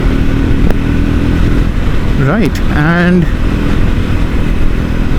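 A Triumph Scrambler 400 X motorcycle cruising on a highway gives a steady, loud engine drone with wind rush, while a rider speaks briefly over it.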